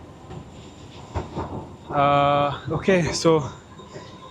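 A metro train moves through a station in Hungary, with a rising rail whine and rumbling wheels close by, over the murmur of people talking.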